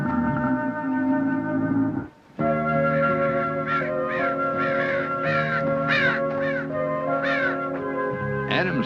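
Crows caw repeatedly at their nest in the wild, harsh calls coming in bursts over a steady layer of background music, with one brief break in the sound.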